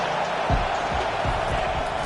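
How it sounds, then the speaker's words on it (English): A college football stadium crowd roars in a steady, dense wash of cheering with low thumping underneath, loud and continuous. "This crowd rising up, sensing that its defense needs some help."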